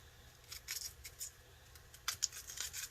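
Cassava pieces being peeled by hand, the skin scraped and torn away in a series of short, dry rasping strokes, close and fairly quiet, with irregular bursts over a low steady background hum.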